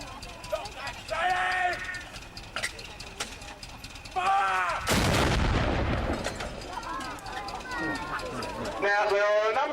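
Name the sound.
artillery gun firing at Dover Castle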